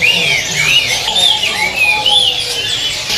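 A dense chorus of songbirds chirping and whistling at a long-running bird shop kiosk selling local and imported birds, with overlapping rising and falling calls that are loud and close.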